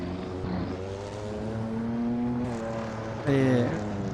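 Engine of a 1950 post-war racing car in a Silverstone British Grand Prix sim race, droning steadily with harmonic pitch and climbing in a sharp, louder rev burst near the end.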